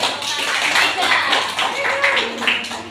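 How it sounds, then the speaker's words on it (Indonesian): Classroom applause fills the room, a dense patter of many hands clapping for a few seconds, with faint voices mixed in. "Oke, beri tepuk tangan dulu."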